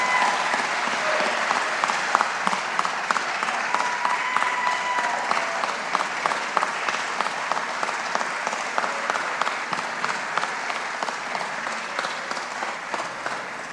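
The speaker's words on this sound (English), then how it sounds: "Can we get a round of applause for them?" Sustained round of applause from the crowd at a government press event honoring officials, a steady wash of many hands clapping for nearly fourteen seconds and slowly tapering off at the end.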